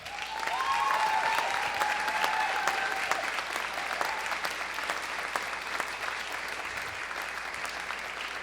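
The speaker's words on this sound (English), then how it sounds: "I think that they deserve a round of applause" The crowd at a women's squash tournament final gives sustained applause, a broad wash of many hands clapping that stays full and even for several seconds and then eases slightly, with no talking over it.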